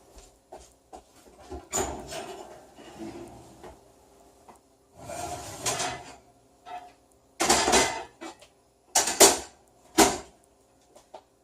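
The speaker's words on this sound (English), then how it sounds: "I'm going to grab my Dutch oven that is very, very hot out of the oven and stick it right here real fast" A very hot Dutch oven is lifted out of a home oven while baking rustic bread: scattered metallic clunks, scrapes and knocks, with several louder bangs near the end, close by and with no talking.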